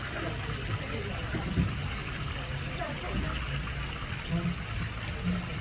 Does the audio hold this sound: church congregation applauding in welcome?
no